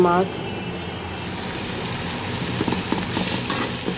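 Fish sizzles and crackles in hot mustard oil in a home kitchen pan, a steady close hiss with scattered pops and a brief voice at the start.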